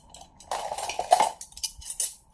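A fork and a spoon set down on a plate one after another, giving a few close, light metallic clinks and taps against the dish with quiet pauses between them.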